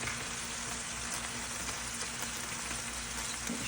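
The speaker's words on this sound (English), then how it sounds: "Let it cook in. And this is cooking in ghee." Beef with neck bones cooks in ghee in a pan, a dense, even crackling sizzle heard close and unbroken for the whole stretch.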